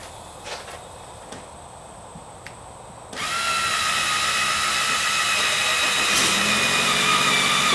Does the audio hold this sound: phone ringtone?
no